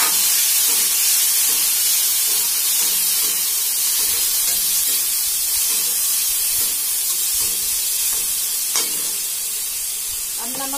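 Tomatoes sizzle loudly in hot oil in a pan after browned ingredients, a constant bright crackling hiss with a few occasional stirring clinks.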